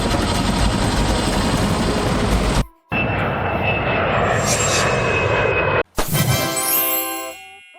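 A firefighting helicopter roars steadily and loudly overhead, its engine drone cut by two brief dropouts before a whining tone rises and fades near the end.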